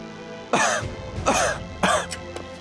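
Three harsh, raspy coughs in quick succession, close and loud, each a short burst separated by brief pauses, from the game Dynasty Warriors 9.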